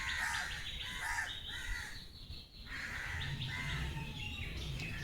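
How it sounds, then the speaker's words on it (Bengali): A chorus of birds chirping and tweeting nearby, with crows cawing among them, continuous and lively over a soft outdoor hum. "পাখির কিচিরমিচির শুনতে কিন্তু আমার বেশ ভালো লাগে"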